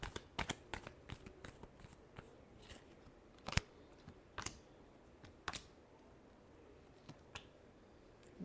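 Tarot cards shuffled by hand, a run of quick crisp riffling snaps and flutters, some sharp and close, coming in uneven bursts with short pauses between.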